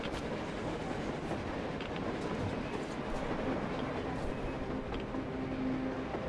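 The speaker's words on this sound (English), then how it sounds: "A train! A damn train on the surface!" A train running on the surface in the game Metro Exodus, a steady rumbling rail drone with faint clickety-clack and a brief high wheel squeal, moderately distant and continuous.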